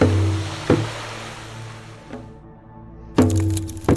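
Sharp cracks and pops burst out over a low rumbling background, a few loud snaps spaced apart like a fire crackling nearby.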